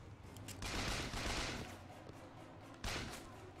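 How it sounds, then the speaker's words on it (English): Bursts of gunfire in Bioshock Infinite: Burial at Sea come in two loud volleys, a long rattling stretch then a shorter one, with a steady game ambience between them. "He's shooting me."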